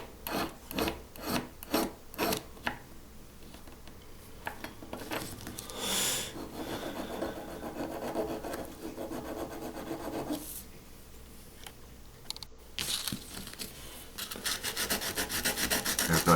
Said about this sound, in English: I dealt with them with a file before sanding the whole car down